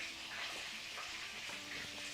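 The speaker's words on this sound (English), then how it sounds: "I can hear this sizzling away" Food frying in a pan in a home kitchen, a steady, soft hiss and crackle that runs without a break, close and fairly quiet, with no talking.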